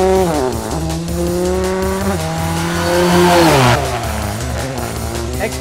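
A 2009 Ford Fiesta X Games rally car with a turbocharged 2-liter four-cylinder making 800 horsepower revs and shifts loudly at close range, its engine pitch climbing and dropping between gears as tires squeal during practice.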